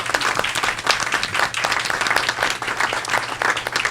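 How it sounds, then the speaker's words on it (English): A school board meeting audience gives a sustained round of applause, dense overlapping clapping from a room full of people, steady and fairly loud throughout with no talk over it. "we can give you a nice round of applause and thank you so much"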